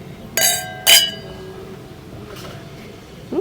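Wine glasses clink together twice in a quick toast at a winery in British Columbia's Okanagan, two bright ringing strikes close by, followed by a faint quiet room.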